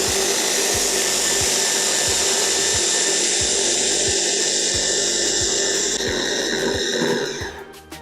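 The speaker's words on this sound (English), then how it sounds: "So keep on blending for another 1 or 2 minutes." A blender whirs loudly and steadily as it purees hazelnuts into a runny nut butter for a vegan hazelnut-cacao spread, with a regular low thumping under the whine, before winding down near the end.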